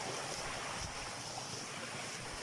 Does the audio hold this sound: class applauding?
no